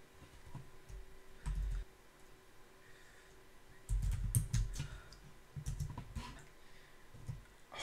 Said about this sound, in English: Then hit the enter key.